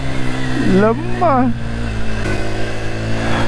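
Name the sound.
Yamaha motorcycle engine riding in second gear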